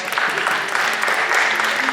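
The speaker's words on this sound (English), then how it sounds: "Give them a big round of applause." Audience at a 2022 Barnes County North High School post-prom hypnosis show applauding the dolphin act, a steady wash of clapping with voices mixed in.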